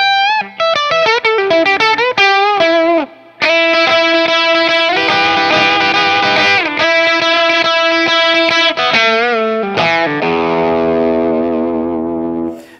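Schecter Ultra III electric guitar played through its bridge pickup with overdrive, a loud, driven run of sustained chords and single notes, with brief pauses, alone with no voices.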